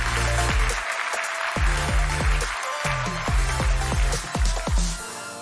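Warm audience applause at a travel and technology talk, a steady dense clapping wash with music playing over it throughout.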